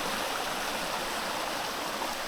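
A brown, tannin-stained stream in New Zealand flows steadily nearby, a continuous even rushing and burbling of water with no talk over it.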